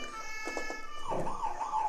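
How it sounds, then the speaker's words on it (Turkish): A small electronic siren on a toy Mercedes-Benz Sprinter ambulance sounds at close range, first in short pulsing wails, then a rising and falling tone that keeps going steadily. "İkincisi siren. Üçüncü siren."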